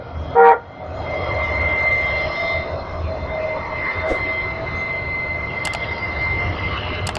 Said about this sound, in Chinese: 这个路上还有一种路面的这种电车，这个跟多伦多的 Streetcar 应该是一模一样的